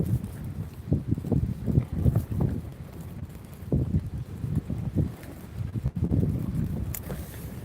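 Strong, gusting wind on a coastal shoreline at night during fishing, buffeting the microphone with a constant low rumble and irregular thumping surges, no clear voices.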